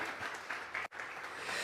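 A church congregation at a Sunday service claps, a faint, even wash of applause with a brief dropout midway through.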